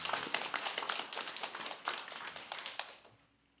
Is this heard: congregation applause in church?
yes